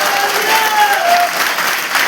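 An audience gives loud, dense applause in honor of a company's managing director, an even wash of clapping that holds steady throughout with a crowd murmur beneath it.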